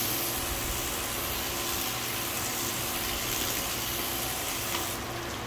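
Water sprays in a steady, broad hissing rush onto a car surface coated with ceramic sealant, close and continuous throughout, easing slightly right at the end.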